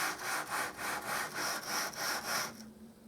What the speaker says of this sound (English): I can sand that no problem whatsoever